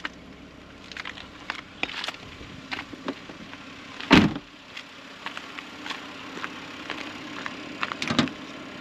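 A 2007 Toyota Solara convertible power top closes with a low motor hum under a series of small clicks and latches, a loud clunk midway and another near the end as it seats.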